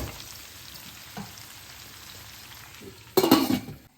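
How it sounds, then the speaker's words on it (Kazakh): Carrots for Uzbek plov fry in oil in a kazan with a steady close sizzle, joined near the end by a brief louder clatter of stirring. "Міне сәбізіміз міне қуырылып жатыр."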